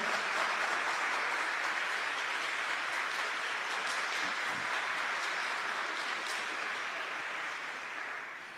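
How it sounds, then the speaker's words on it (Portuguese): A seated audience claps in steady, dense applause at a religious talk, continuous and even throughout before easing slightly near the end. "Uma salva de palmas para o tratado da verdadeira devoção"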